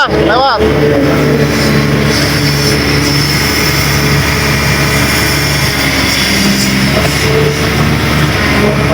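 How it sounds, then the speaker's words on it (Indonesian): A motorcycle engine rumbles loud and close as it passes along a riverside street during a canal clean-up, with people talking over the steady drone. "Ada motor mau lewat."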